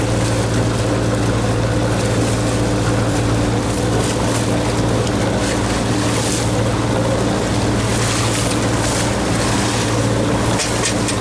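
Motorboat passing slowly near an anchored boat, a continuous low engine drone under constant wash and wind noise, steady and fairly loud throughout with no talk.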